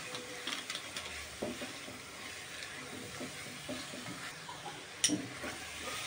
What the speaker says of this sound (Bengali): তারপরে দিয়ে দেব সামান্য পরিমাণ হলুদ, এবার দিয়ে দেব লঙ্কার গুঁড়া। এটাকে ভালো করে কষিয়ে নিব একটুখানি।